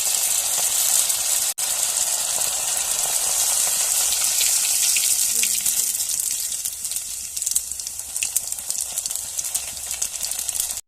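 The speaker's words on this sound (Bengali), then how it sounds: "চালগুলোকে ভেজে নেব" Rice grains dry-roasting in a pan without sand or salt give a steady, dense crackling hiss that runs continuously and fairly loud, with faint scraping textures and no talk.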